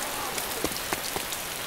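Rain drips and patters through the roofs of buildings in the survival game DayZ, a dense, even hiss broken by a few sharper drops close by, with no voices.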